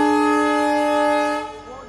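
A loud, steady train horn at a busy railway station in Faridabad, a sustained multi-tone blast that holds for over a second before fading, with station bustle and faint voices underneath.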